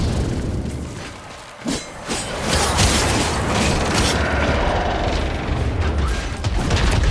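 A supply pod is destroyed in the video game Warframe, with loud mechanical clanks and a booming crash followed by dense, sustained rumbling effects.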